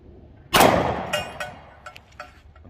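A single sharp gunshot from an XDM Elite 3.8-inch 10mm pistol cracks loudly at close range outdoors, followed by a decaying echo and a few faint clicks.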